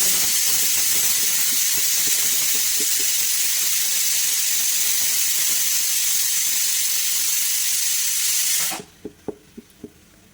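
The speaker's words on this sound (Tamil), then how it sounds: "குக்கர் பார்த்தீங்கன்னா நம்மளுக்கு வந்து ஒரு விசில் வந்துருச்சு" A pressure cooker whistles while cooking sambar: a loud, steady steam hiss blasts for several seconds, then cuts off abruptly, followed by a few faint clicks and rattles.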